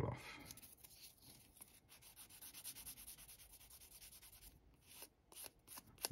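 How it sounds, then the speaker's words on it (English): A sander works over small plastic model kit parts for a tank build, giving a faint, steady rubbing rasp in short strokes, quiet and close, with no voices. "just going with the sander"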